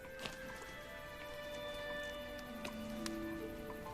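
Hooves clop at an unhurried, irregular pace over a steady background hum, with faint tonal music or ringing underneath and no voices.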